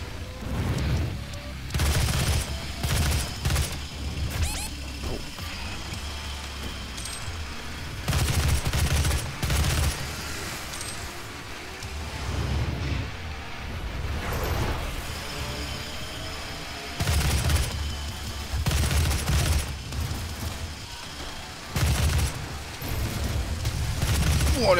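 Weapon fire in the DOOM video game comes in repeated bursts of loud, booming shots separated by quieter gaps of a few seconds, with game background noise running underneath.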